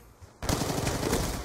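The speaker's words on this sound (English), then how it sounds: "We're trying out my MSMC right now on some search." An MSMC submachine gun firing in a Search and Destroy match of Call of Duty: Black Ops 2, a rapid, loud sustained burst that starts abruptly after brief quiet and continues steadily to the end.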